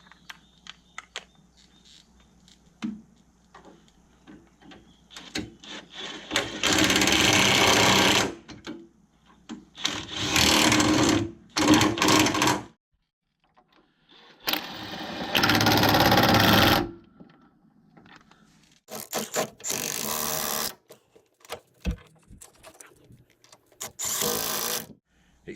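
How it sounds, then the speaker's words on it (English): A larger power drill runs in several loud bursts of a few seconds each, with quiet gaps in between during work on a truck build. "We've swapped to the bigger drill for more power."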